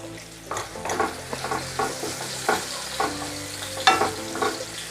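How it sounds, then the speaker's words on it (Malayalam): Chili and pepper powder masala for pearl spot fish stirred and frying in a pan: a soft steady sizzle broken by regular scraping strokes of the spoon, close up with no talking. "ഒരു സ്പൂണ് മുളക് പൊടി ഇട്ട് കൊടുത്തിട്ടുണ്ട് നല്ലോണം ഒന്ന് മിക്സ് ചെയ്തെടുക്കാം"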